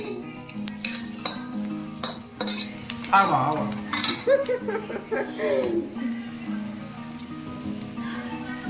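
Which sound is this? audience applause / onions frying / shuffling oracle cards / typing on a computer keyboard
onions frying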